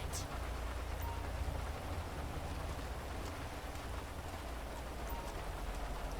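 Constant rainfall in GTA 5 hissing evenly with a low rumbling undertone, a steady wash of drops with no voices.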